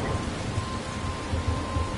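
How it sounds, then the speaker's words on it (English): A thunderstorm in the Life is Strange video game: steady heavy rain with low rumbling thunder rolling through, loud and continuous without any speech. "I'm trapped in a storm."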